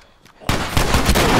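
Loud, close rapid gunfire bursts out in The Last of Us, a dense volley of shots continuing without pause after a brief quieter lead-in.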